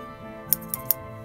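Long bonsai scissors give three quick, bright metallic snips or clinks, close and fairly sharp, against a quiet background hum.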